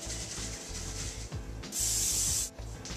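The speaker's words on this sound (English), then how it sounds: "we're going to spray our pan" A short hiss of cooking spray onto a pan lasting under a second, set against a steady low mechanical hum and rubbing noises.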